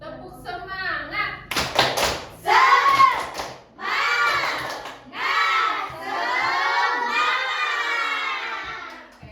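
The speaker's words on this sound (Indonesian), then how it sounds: "Yuk, biar kita semangat, kita tepuk semangat dulu." A classroom of children doing a rhythmic spirit clapping chant, with loud shouted syllables, sharp clap bursts and cheering voices, close and lively throughout.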